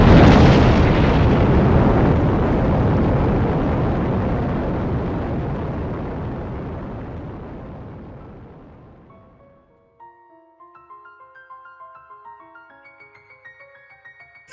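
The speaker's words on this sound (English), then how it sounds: "I opened up the silo and launched the rocket into deep space" Rocket launching from a silo in the Minecraft Create mod: a loud, sustained roaring blast that slowly fades away over about ten seconds, then gives way to soft, sparse game music tones.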